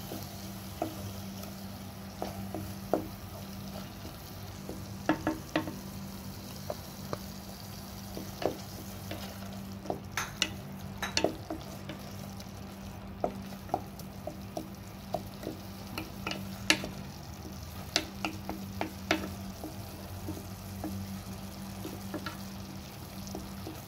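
A paste of green chili, curry leaf, coriander and mint sautés in a pan for a vegetable dum biryani, giving a quiet, steady sizzle with scattered soft ticks and stirring clicks, and no talking.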